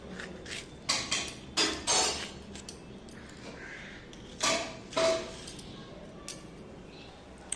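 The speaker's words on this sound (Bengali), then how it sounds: "এই দেখো গাজর বোনা কাটছি এই দেখো ক্যাপসিকামটা কাটছি" Knife chopping carrot and capsicum on a board in a home kitchen: a handful of sharp, close taps in small clusters with quiet gaps between them, over a faint background hiss.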